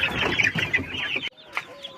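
Chickens cluck and chatter together close by, a busy flock noise that cuts off abruptly, leaving a few softer clucks.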